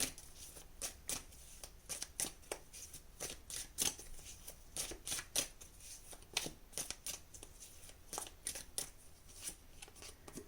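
Tarot cards are shuffled by hand, a quiet series of crisp riffling and snapping flicks at an uneven rhythm, with no talking.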